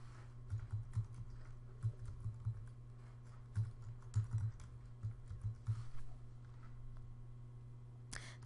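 Quiet clicking on a computer keyboard comes in a few short bursts of keystrokes separated by pauses, close and soft over a low steady hum, ending with a single sharper click.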